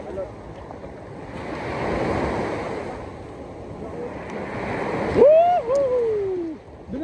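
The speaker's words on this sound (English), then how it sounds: "Ah, big waves, sino? Big waves." Big ocean waves seen from a boat, with broad wind-blown surf and rushing water swelling and fading, then a loud whistle-like tonal cry cutting in near the end.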